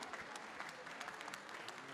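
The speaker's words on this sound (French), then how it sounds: "On l'applaudit très," Dense, steady applause from an audience at a prize ceremony for the Bazadaise cattle breed, filling the whole stretch with continuous clapping and a faint voice beneath it.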